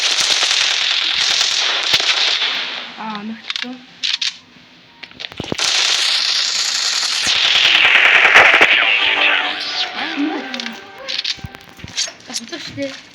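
Rapid bursts of gunfire from a computer shooting game crackle loudly in quick volleys, broken by short pauses, while people talk throughout.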